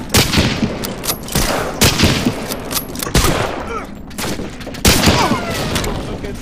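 Gunfire in Medal of Honor Spearhead during a free-for-all multiplayer match, with sharp repeated shots and bursts in an irregular rhythm, some close and loud, others more distant, with occasional booms.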